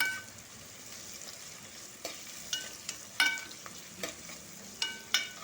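Vegetables and noodles stir-frying in a pan for street-style veg noodles, a soft steady sizzle broken by several sharp scraping and tossing clicks from the utensil, close and fairly quiet.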